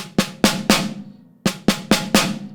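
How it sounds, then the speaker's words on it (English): Slow snare drum four-stroke ruffs: a group of three strokes, a pause, then four strokes, each crisp hit ringing briefly, played alone at close range. "So in slow motion, it sounds like this."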